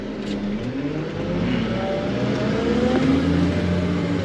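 Vehicle wheels spinning on dry, bumpy dirt around a shop, with a steady loud engine drone and rising rev tones throughout, close and without talking.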